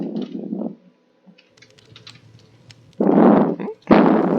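Two short bursts of computer keyboard typing while entering a Minecraft Bedrock Edition command, close and fairly loud with a quiet gap in between.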